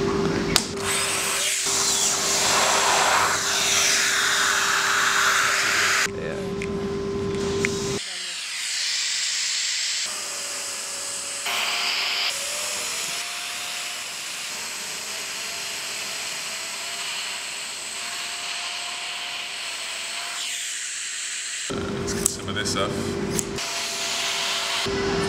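A Dyson vacuum cleaner runs in a hair-tangle test while sucking up tangled hair and paper, giving a loud, hissing motor whine that cuts off and restarts several times, with stretches of quieter noise between.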